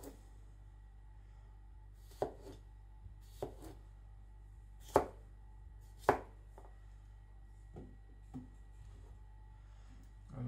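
A new custom kitchen knife chops food with about eight sharp, close strikes at an irregular pace, some louder than others, over a quiet background with no talking.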